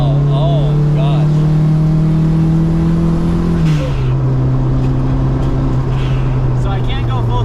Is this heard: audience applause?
no